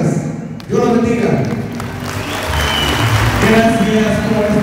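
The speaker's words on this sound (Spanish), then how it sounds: "Gracias por estos aplausos." Audience applause breaks out after a mayor's speech at a small lunch gathering, a dense wash of clapping that rises quickly and holds steady for several seconds, with voices murmuring underneath.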